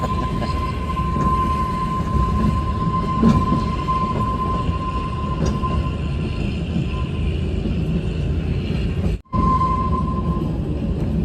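Inside a carriage of the Kalka–Shimla toy train, the Shivalik Deluxe Express, with windows shut: a steady rolling rumble with a thin wheel squeal running on and off.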